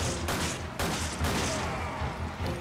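Pistol shots in the video game Resident Evil 5, a dense burst of several loud gunshots fired in quick succession with no talking.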